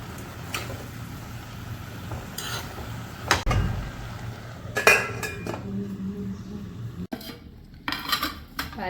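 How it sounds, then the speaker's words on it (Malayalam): A utensil scrapes and clinks against a metal pot in scattered bursts, with a few louder knocks amid quiet kitchen background. "നമുക്ക് ഇത് നല്ലപോലെ ഒന്ന് ഇളക്കി കൊടുക്കാം"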